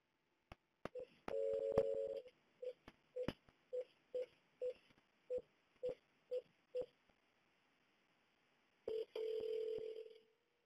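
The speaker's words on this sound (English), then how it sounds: "We can pick up the phone here and make a call." A Cisco DX650 desk phone placing a call: a dial tone, then a quick series of about ten short keypad tones in steady rhythm, a pause, and a sustained ringback tone, faint and clean with no talk.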